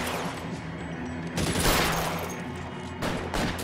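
Rapid gunfire from a video game, a steady dense crackle of shots with heavier bursts swelling in loudness, continuous throughout with no voices over it.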